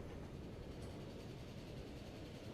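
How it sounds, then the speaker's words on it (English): Trains rumble along in the Transport Fever 2 video game, giving a steady, dense, low wash of rail noise that holds even throughout with no distinct events. "the trains are off doing their thing"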